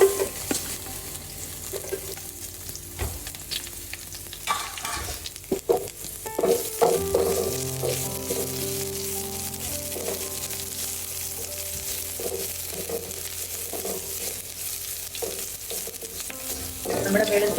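Sliced ginger and garlic frying in a pan for a chicken stew, with a steady close sizzle and occasional stirring scrapes throughout, no talking.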